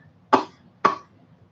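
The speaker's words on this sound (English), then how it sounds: "Already coughing on the plaster." A person coughs twice from plaster dust while working with plaster on fabric, two sharp, close bursts about half a second apart against a quiet background.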